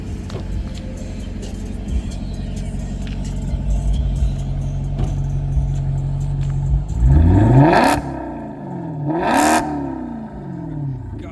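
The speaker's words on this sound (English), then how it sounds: "Now, I wanted you to rev it." A modified Maserati GranTurismo with a loud aftermarket exhaust idles with a low rumble, then is revved hard twice, each blip rising sharply and falling away, close and loud with no talk over it.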